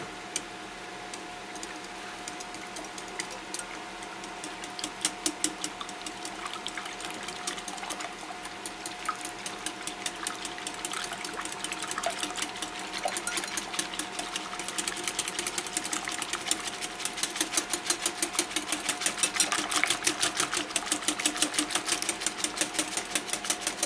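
A mixer churns a batch of KFC-style chicken coating with a steady mechanical whir and rapid rattling ticks, a constant motor hum beneath, growing slightly louder and busier toward the end; no talking.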